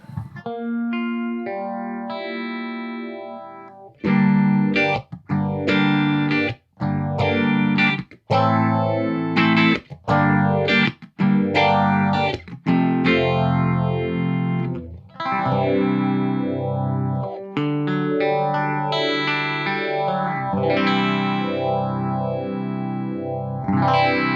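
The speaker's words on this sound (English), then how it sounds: "So just a nice simple one knob phaser, which is all I need." Clean electric guitar through a simple one-knob analog phaser pedal with compression: picked chords and single notes with a sweeping, swirling phase, sounding close and steady, with no talk.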